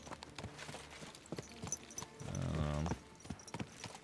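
Horse hooves clip-clop at a steady walking rhythm in a medieval Bohemian open-world game, close and moderately loud over an ambient outdoor backdrop, with a brief swell of other game noise midway.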